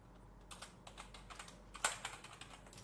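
Fast, steady keystrokes on a computer keyboard while writing Python code for data analysis, a busy run of crisp clicks with one sharper clack near the end, close and fairly quiet with no talking.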